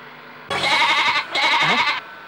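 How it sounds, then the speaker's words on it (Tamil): Goat bleating: two loud, close, wavering bleats in quick succession, each about half a second to a second long, with a short gap between them and no other sounds. "என்னடா ஆடு கத்துற சத்தம் கேக்குது?"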